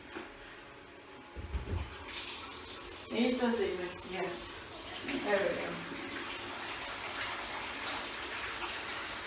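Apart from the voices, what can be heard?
water filling a bucket for bathroom cleaning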